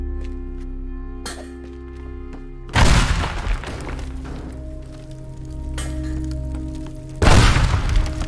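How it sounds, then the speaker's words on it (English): A pipe bomb goes off in a video game, a sudden loud blast with crashing debris and clinks, followed later by a second heavy boom over a low humming background. "Pipe bomb."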